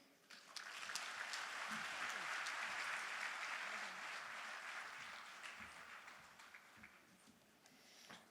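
Applause for the UN Deputy Secretary-General at the official opening of a regional forum, rising quickly into a full, sustained wash of clapping and then slowly fading, with faint crowd murmur underneath.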